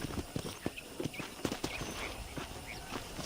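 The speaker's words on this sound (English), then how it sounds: "let's see if you can still ride a horse." Horse hoofbeats in the Red Dead Redemption video game, a rhythmic clip-clop of galloping hooves at a moderate distance, with faint game ambience underneath.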